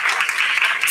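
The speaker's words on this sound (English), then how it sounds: "Give them a round of applause, everyone." Audience applause at the official inauguration of the FIABCI Pavilion at MIPIM, a dense, steady clapping from a crowd that fills the whole short moment at even loudness.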